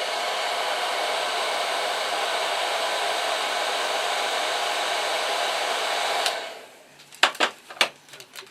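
A heat gun blows hard with a steady broadband roar to soften glue stickers, running loud and close for about six seconds before cutting off, followed by a few sharp handling knocks.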